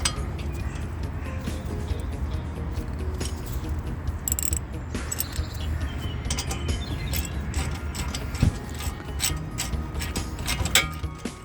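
Front brake assembly on a Ford Fiesta being screwed back together after new pads are fitted, with close metallic ratcheting and clinking of tools and bolts over a low workshop rumble.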